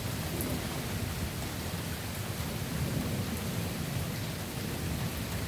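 Severe thunderstorm in Monroe, Michigan, with steady heavy rain pouring down and low rolling thunder rumbling throughout, a dense continuous wash of sound with no talk.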